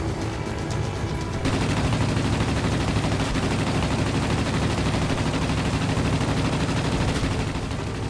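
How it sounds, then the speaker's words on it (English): Anti-aircraft fire in the World of Warplanes game, a biplane caught in a dense, relentless barrage of rapid gunfire and booming bursts that erupts after a quieter engine drone and roars on loudly without pause. "You're under anti-aircraft fire"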